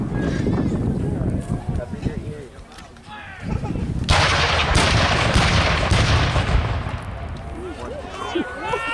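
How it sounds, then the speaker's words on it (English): A Civil War reenactment cannon fires with a loud, booming blast, followed by a long rumbling roar. Voices talk and call out before and around it. "That gun sergeant will pull the lanyard, and it's going to go boom real loud."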